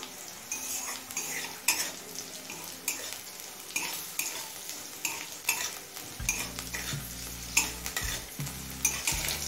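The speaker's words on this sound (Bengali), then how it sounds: "কালো জিরে দিয়ে মিডিয়াম ফ্লেমে আরও 2-3 মিনিট ভেজে নিয়েছি।" Chopped snake gourd with chilli and nigella seeds fries over medium flame in a home kitchen, a continuous soft sizzle under repeated scraping and clinking of a metal spatula stirring in the pan.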